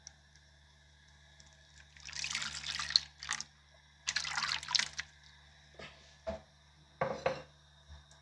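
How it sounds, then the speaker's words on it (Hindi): Tamarind pulp going into a pan on a stovetop flame, heard as quiet, wet splattering bursts and a few short drips and clinks, spaced a second or so apart against a low steady hum. "ये मैंने आग पे एक पैन रख ली है, इसमें मैं इमली का पल्प भी डालूँगी"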